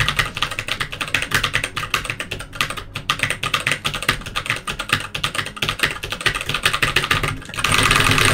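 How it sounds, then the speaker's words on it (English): Computer keyboard typing during a game stream: a rapid, continuous clatter of keystrokes close to the microphone, ending in a denser, louder burst. "Typing. Obviously."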